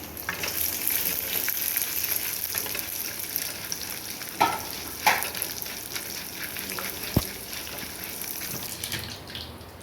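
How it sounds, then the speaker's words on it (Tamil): Ingredients for an onion chutney are roasting golden in a pan with steady frying sizzle, with occasional stirring scrapes and a few sharper clinks over about ten seconds, with no talk. "அதையும் நல்லா பொன்னரமாக நம்ம வறுத்துக்கிட்டுறோம் அந்த சட்னிக்கு."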